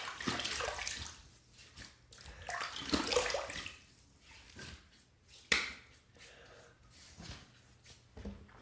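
Water splashed by hand onto the face before a shave, several close, wet splashing bursts with quieter gaps between them and a sharper splash midway through.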